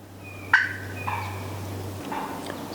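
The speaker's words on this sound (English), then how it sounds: "they were doing what's called the alarm putt." A wild turkey gives its alarm putt outdoors, a sharp, clear note standing alone, followed by softer calls at a moderate distance over a steady low hum.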